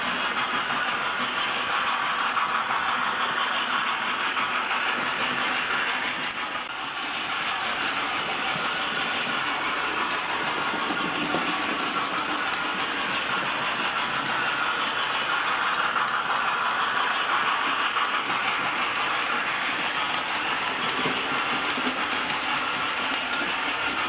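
A steady, continuous rumble and roar of a passing steam locomotive, the A4 Sir Nigel Gresley, pulling a passenger train, loud and sustained with no pauses and no voices throughout.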